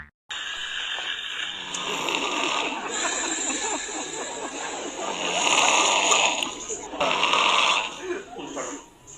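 A comic snoring effect plays steadily for about nine seconds: loud, rasping, hissy breaths that swell and fade, with a brief quieter dip near the end.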